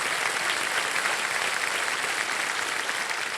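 A television quiz show studio audience claps loudly and continuously, a thick, uniform wash of many hands with no pauses and no voices rising above it.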